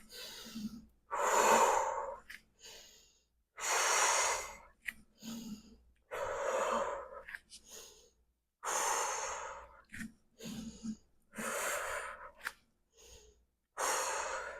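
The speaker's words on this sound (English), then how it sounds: "inhale, exhale" Steady, rhythmic breathing during a bird-dog core exercise: a series of audible inhales and exhales, close and fairly loud, each breath separated by short pauses with no speech.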